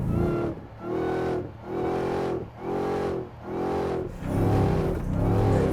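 A 2024 Ford F-150 Raptor R pickup's engine revs hard in repeated surges, roaring up and dropping off about five times, then holds a steady loud rumble as it launches away.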